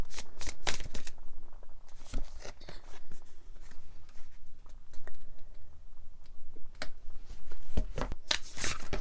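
Close, crisp riffling and snapping of an anime-themed card deck being shuffled, with repeated bursts of flicking cards and soft taps between them, quiet and without talk.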